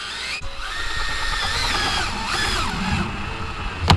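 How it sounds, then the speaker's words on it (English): Power drill boring mounting holes for an STI rear wing on a Subaru WRX, a steady whining drone that holds for most of the stretch before a sharp bite near the end, with no talking. "And then we can drill holes."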